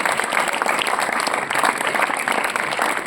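Audience at a maths quiz show clapping for contestants, loud dense applause that holds steady throughout.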